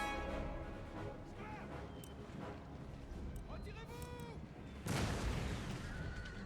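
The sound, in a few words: cannon fire in Empire: Total War video game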